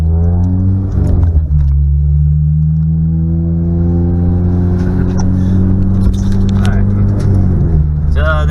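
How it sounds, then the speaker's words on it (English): A 2015 Honda Civic Si fitted with new Truhart shocks pulls away: a steady, loud low engine drone and road rumble run throughout, with a brief surge near the start and a slight rise toward the end. "Let me put the car down, see how it sits, take it for a drive."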